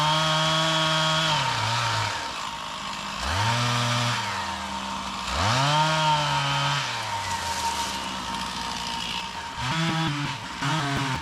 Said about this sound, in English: Get your saw out before it gets pinched, and then cut from the top.